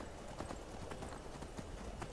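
Horse hooves clip-clop steadily while riding in the Skyrim video game, a continuous rhythmic trot of fairly loud, close hoofbeats with no speech over them.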